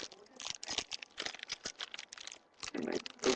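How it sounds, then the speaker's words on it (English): Scissors cut open a plastic K'Nex parts bag, giving a quick run of close crinkling and snipping rustles. "I have to open up the bag."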